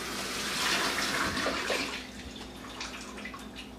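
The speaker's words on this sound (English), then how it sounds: "I'm going to rinse my hands off real quick." Running tap water splashes over hands being rinsed at a kitchen sink, a steady soft hiss and patter that gradually eases, fairly quiet and close with no talking.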